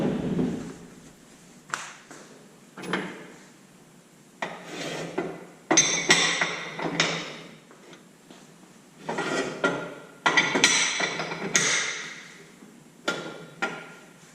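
A Challenger RJ3.5 rolling jack is pushed into place under an SUV, giving intermittent scraping, rattling metal clanks and rolling rumbles in bursts, moderately loud and close, without speech.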